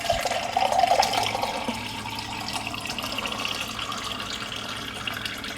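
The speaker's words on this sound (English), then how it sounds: "Very fast to fill a cup of water." Water runs from a reverse osmosis filter faucet into a cup, a strong steady stream with a louder gush at the start that settles into an even hiss, with no talk.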